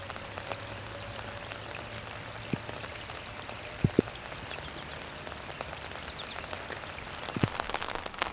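Steady rain falls outdoors beside a canal, a dense, even patter on hard surfaces with a few sharper drops landing close by. No one speaks.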